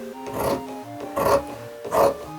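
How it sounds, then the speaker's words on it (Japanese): Scissors cut through four stacked layers of kimono fabric in three distinct rasping snips at a steady rhythm, close and clear, with a faint tonal hum behind them and no talking. "切っちゃうよ切っちゃうよ切っちゃうよチョキチョキチョキチョキ"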